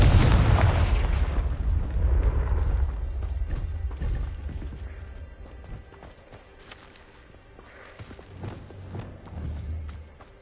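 A Confringo fire spell blasts in Hogwarts Legacy, a loud, close burst with a deep rumbling boom that rolls off over several seconds, followed by quieter thuds and clattering game effects.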